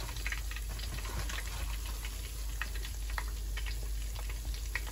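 Bananas frying in oil in a pan as sugar goes in for bananaque, a dense, steady crackling sizzle with scattered pops, continuous and close.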